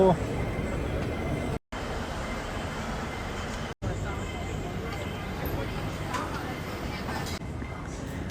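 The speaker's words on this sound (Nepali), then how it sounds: "अब आफ्नो गेटतिर चाहिँ ट्रेन चढेर गइने भयो" Low steady rumble of an airport terminal train in Hong Kong running to the gates, continuous rolling noise throughout with two brief dropouts, a voice talking faintly over it.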